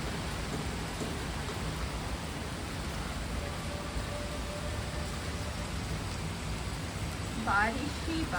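Steady rain falling outdoors under cloudy skies, a constant dense hiss at a moderate level throughout with no break, and a brief faint squeak near the end.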